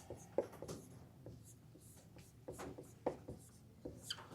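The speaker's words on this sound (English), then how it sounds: "So I'm going to write what we had." Soft, close scratching of a marker or chalk writing an answer on a classroom board, a string of short strokes and taps at irregular intervals, quiet and alone.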